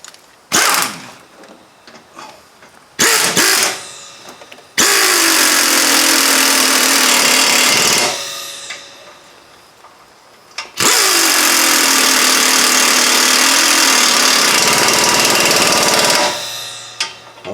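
A power tool tightens the rear shock bolts on a 2001 Buick Park Avenue, with a few short loud bursts followed by two long, sustained rattling runs that wind down at the end.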